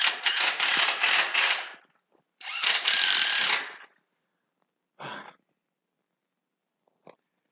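Screws driven in with a power driver during a behind-the-scenes workday at Old Humble Whiskey: two sustained buzzing runs of about a second and a half each, then a short burst and a faint click.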